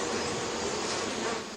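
Honey bees buzz steadily while gathering pollen from flowers, packing it into the baskets on their hind legs; a close, continuous droning hum with no voices.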